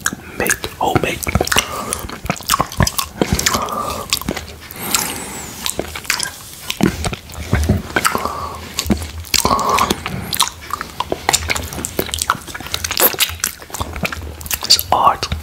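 Close-up crunching and biting of a homemade butterfly-shaped candy art lollipop, grape flavored, with repeated hard cracks and wet chewing in an uneven rhythm, soft whispers now and then.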